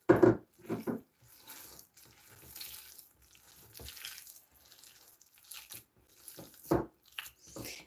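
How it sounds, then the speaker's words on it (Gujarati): Water added to a thick gram flour batter for bhajiya: a few short pours and splashes, with a louder burst at the start and another near the end and soft mixing sounds in between, close and fairly quiet. "થોડુંક જરૂર પડે એ પ્રમાણે થોડુંક પાણી એડ કરી દેશું"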